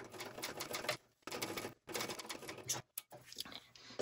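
A home sewing machine stitches a fabric seam for a bag, running in short rapid bursts broken by brief pauses as it backstitches at the start and end, close and fairly quiet.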